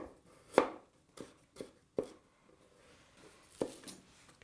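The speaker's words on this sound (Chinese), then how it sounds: "切一点姜" A knife chops ginger on a cutting board in a rural kitchen: five or six close, uneven thwacks with short pauses, the loudest near the start.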